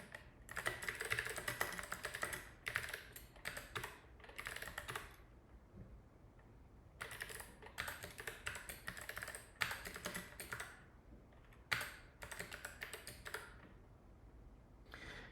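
Keys clatter on a computer keyboard in quick bursts of typing separated by short pauses, fairly close and clear.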